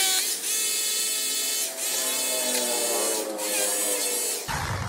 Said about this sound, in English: So I'm going to ream this hole out a little bit more.